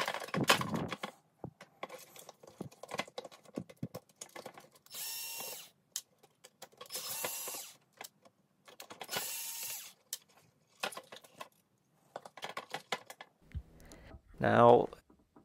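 Screws are backed out of the motor assembly of a vintage radio-controlled Star Wars Jawa Sandcrawler toy, giving several separate whirring bursts of a small power screwdriver with scattered plastic clicks and handling sounds between them, close up, with occasional talk.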